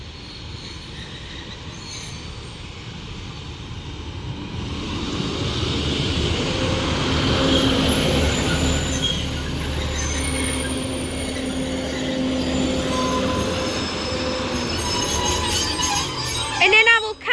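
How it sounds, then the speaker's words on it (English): Northern train 15115, the Buxton to Manchester Piccadilly service, departs Levenshulme station on the West Coast Main Line with a rising engine drone and rumbling wheels that swell, then hold steady, ending with sharp squeals and clanks. "Now departing is going to be the 1314 Northern service to Manchester Piccadilly from Buxton, 15115."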